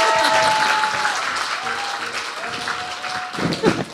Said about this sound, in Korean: 광고인데 뭐 박수를 치고 그래.